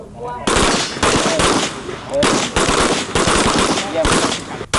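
Loud, close gunshots ring out in repeated bursts during firearms training for prison guards at a shooting range, each volley followed by a brief pause.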